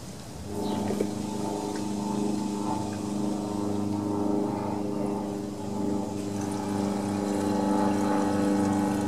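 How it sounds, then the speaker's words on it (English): Gasoline pouring into the fuel tank of a Poulan chainsaw, a steady continuous liquid stream with a low droning hum running underneath the whole time. "Let's put a little gas in there"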